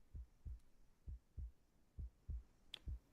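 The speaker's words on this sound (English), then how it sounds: "A heartbeat. Right outside the door." A low, muffled heartbeat thumps steadily just outside a door in a haunted setting, about ten soft beats alone in near silence, with a faint tick near the end.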